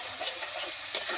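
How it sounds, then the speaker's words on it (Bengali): Masala with tomato and sour yogurt fries steadily in a pan for a pangas fish curry as turmeric and salt are stirred in. A continuous close sizzle is broken by one brief scrape. "এবার আমি মশলার মধ্যে দিয়ে দিচ্ছি পরিমাণ মতো হলুদ গুঁড়ো, আর দিয়ে দিচ্ছি পরিমাণ মতো লবণ। মশলার সঙ্গে মিশিয়ে নেব হলুদ লবণ।"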